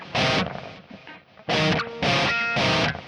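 Distorted electric guitar playing minor-third chord shapes, a few loud fuzzy strums separated by brief gaps, close and gritty with no voice over it.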